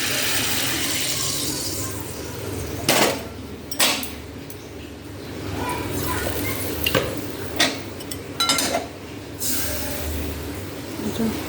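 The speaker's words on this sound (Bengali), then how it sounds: "তাই এটা এবার প্রেসারের মধ্যে আমি ঢেলে দেবো।" Boiled chana dal and hot water are poured from a pan into a pressure cooker pot, giving a close liquid pour and splash broken by several metallic clanks.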